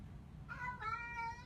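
A pet cat gives two short meows close by, faint and clear over quiet room noise.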